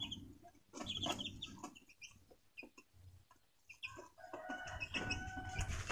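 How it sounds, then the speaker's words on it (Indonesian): Chickens cluck softly and intermittently with thin chick peeps mixed in, fairly quiet and close, with no voices. "ini ada anak ayam juga"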